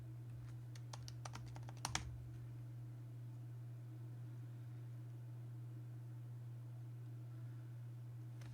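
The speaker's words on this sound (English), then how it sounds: "I just typed someplace I shouldn't have typed." A burst of computer keyboard typing, a quick run of close, crisp key clicks in the first two seconds, then a steady low hum for the rest of the clip with no further keystrokes.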